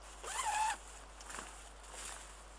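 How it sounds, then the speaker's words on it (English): A zipper is drawn closed on a small pop-up chair hunting hide: one long, loud zip followed by two shorter, softer pulls, close by, with no talking. "unzip it up behind you"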